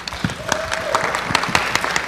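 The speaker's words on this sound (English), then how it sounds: "Let's give her a round of applause." City council meeting audience applauding an honoree with scattered, moderate clapping, individual claps standing out, plus a brief tone and some background voices.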